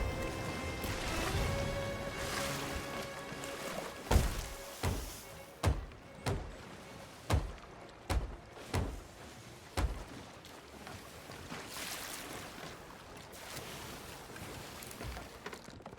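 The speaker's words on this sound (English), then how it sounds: "Now that he's dead, I'm gonna go and repair the only hole I have." Repairing a hole in a ship's hull in the Sea of Thieves game: a series of about seven evenly spaced, heavy wooden thunks over a steady wash of wind and sea ambience.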